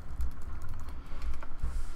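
Steady typing on a computer keyboard, close up, with rapid soft key taps and a few heavier thumps, no voices.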